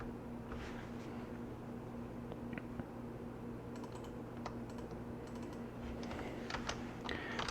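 Quiet, irregular clicking of keys typed on a computer keyboard, with short bursts of keystrokes over a steady low fan hum.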